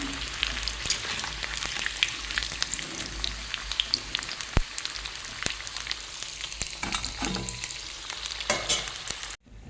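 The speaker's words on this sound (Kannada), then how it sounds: "ಚೆನ್ನಾಗಿ ಫ್ರೈ ಆಯಿತು." Jackfruit kebabs fry in hot oil with a loud, steady sizzle dense with crackles and pops, continuous throughout with no talking.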